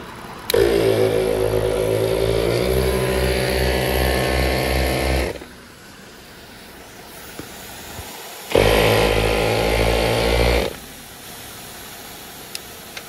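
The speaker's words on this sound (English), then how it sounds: "the air compressor actually filled up with air and is turning off" Rough Country twin tube air compressor running with a loud, buzzing motor drone that cuts off after about five seconds, then kicks on again briefly and shuts off once more as the tanks fill.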